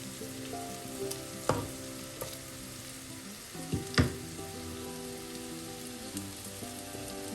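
Masala powder sizzling in hot oil beside garlic in a pan for Kerala-style red snapper fish curry, a steady close crackle like rain with a few sharp spoon taps against the pan.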